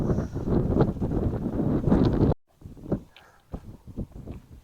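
Heavy wind gusts roar and buffet the microphone at a remote mountaintop fire tower in British Columbia, then ease into intermittent rustling bursts after a brief dropout.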